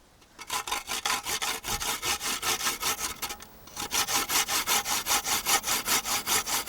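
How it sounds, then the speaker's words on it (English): A homemade grater cut from an iron lard can, its holes punched with a nail, is rubbed in brisk, even back-and-forth strokes, a rhythmic rasping scrape that pauses briefly before resuming at a steady pace. "This grater was made out of the iron can, lard can, and the hole was punched with a nail in it."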